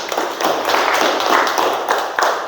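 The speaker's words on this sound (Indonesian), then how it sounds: "Ya, tepuk tangan." Short burst of applause from a classroom audience after a group presentation, a close, busy patter of hand claps lasting a couple of seconds.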